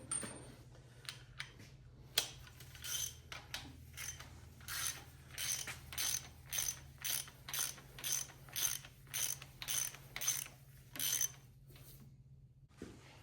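A ratchet snugs up the camshaft on a 318 Magnum short block, its quiet rhythmic clicking strokes repeating close by in a steady series over a low hum, a few scattered clicks before and after.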